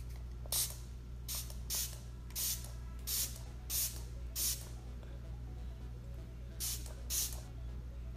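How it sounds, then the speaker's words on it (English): Fix Plus setting spray is misted onto a face in about ten short, sharp hissing bursts, close to the microphone, a few in quick succession, with quiet pauses between them and a low steady hum underneath. "just spray my face down with Fix Plus"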